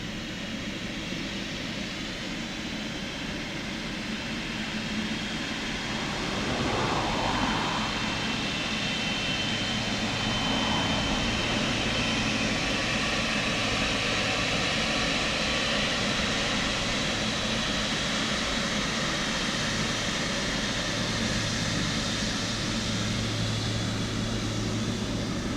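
An aircraft on runway 28 left at Dublin Airport, a continuous broad engine roar heard from a distance that swells slightly after the first few seconds and holds steady throughout.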